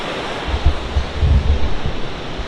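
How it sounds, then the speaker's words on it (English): Waterfall rushing somewhere in a rock-carved canyon in Jasper National Park, heard as a steady, broad roar of falling water with low rumbling swells, moderately loud and continuous, with no voices. "there is a waterfall here somewhere"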